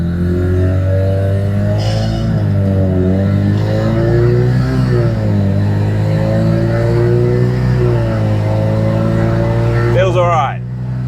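Car with a ZF 8HP automatic transmission driving laps, its engine droning steadily and loud, rising and falling in pitch as it changes speed, ending with a sharp upward rev.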